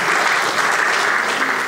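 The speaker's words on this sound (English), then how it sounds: "please stand for a round of applause" Audience at a graduate students' association ceremony giving a round of applause: a brief, steady burst of many hands clapping with no pauses.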